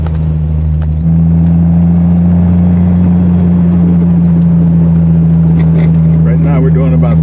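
Triumph TR6 engine cruising steadily in third gear at low revs, a loud, even drone heard from inside the car, with someone talking over it near the end.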